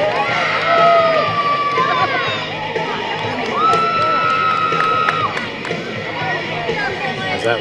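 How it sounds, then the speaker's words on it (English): A crowd at a high school softball game cheers and whoops, the noise swelling and easing in waves with shouting children and chatter mixed in. "Crowd's getting into it a little bit."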